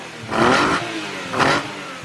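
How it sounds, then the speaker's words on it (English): A Nissan R32 fitted with individual throttle bodies revs hard twice, each rise climbing and falling back to a steady idle, loud and close with no voices. "This car I actually have a sound clip of. It's a R32 with ITBs."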